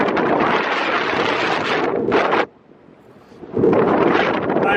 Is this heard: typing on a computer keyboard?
no